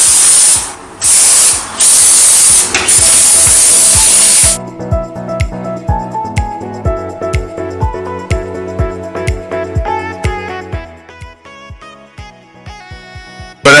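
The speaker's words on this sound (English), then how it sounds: "We got some brake cleaner here. This stuff dries real fast." Brake cleaner sprays onto an electrical connector on a wrecked 2017 Corvette Z06 in several loud, close, hissing bursts, followed by rapid mechanical ticking and clicking.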